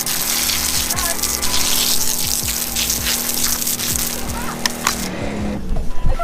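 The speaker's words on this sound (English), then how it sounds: "It's really good having pressurized water, so now I can just do this." Water sprays from a small hose fed by a pressurized pump: a loud, continuous hiss with rhythmic pump ticking underneath. It cuts off near the end, followed by a few close clatters.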